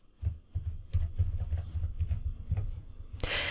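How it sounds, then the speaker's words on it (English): Keystrokes on a computer keyboard clatter in a quick, irregular run while a formula is typed into an Excel spreadsheet, close and clear, ending in a brief burst of broadband noise. "So let's type in equals XLOOKUP."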